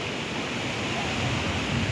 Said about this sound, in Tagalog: Ayan yung dagat oh.